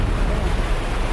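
Heavy sea swell ahead of a super typhoon rolls in as a constant deep roar of surf mixed with wind buffeting the microphone, loud and steady throughout.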